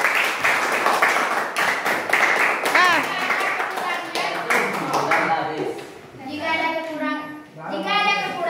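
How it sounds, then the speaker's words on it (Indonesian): Students at an economics seminar clap for a presenting group: dense, steady applause from a room of people runs for several seconds, with young voices talking over it and chiming in as the clapping thins out. "kita berikan aplaus buat kelompok"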